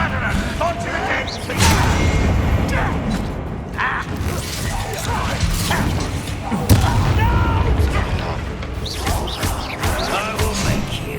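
A fire spell cast in a fantasy video game bursts out in loud booming, crackling blasts over a steady dense wash of game effects, with a voice heard over the roar.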